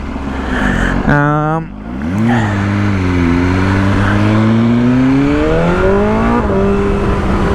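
BMW M1000R motorcycle ridden at night in direct throttle mode with wheelie control set low, its engine blipping sharply then pulling a long rising acceleration, loud and close, with brief gear changes.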